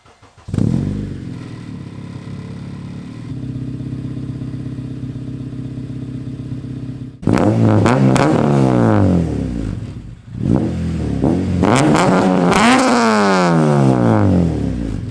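A 2006 Honda Civic Si with a built K20/K24 engine swap revs loudly up close, first a steady drone, then after a short break repeated sharp climbs and drops in pitch.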